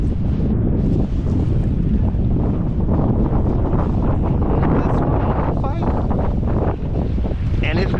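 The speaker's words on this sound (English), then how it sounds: "Windy out here, y'all, so y'all might not be able to hear me." Strong wind buffeting a microphone while catfishing on the Occoquan on a windy day, a loud, constant rumbling roar that fills the whole stretch and nearly masks a voice underneath.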